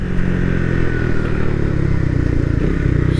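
A motorcycle engine roars steadily and loudly, its low rumble climbing in pitch as it accelerates, with some clattering mechanical noise.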